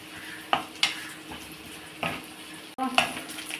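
Grated coconut and fennel fry in a hot pan with a continuous sizzle, punctuated by several sharp spoon scrapes and stirs against the metal, close and fairly loud.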